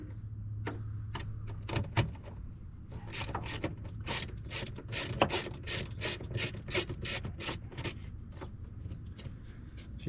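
A 1/4 inch ratchet with an 8mm socket clicks rapidly while removing screws from a cold air intake box on a 2023 Hellcat, with close, dense bursts of pawl clicks over a low background hum.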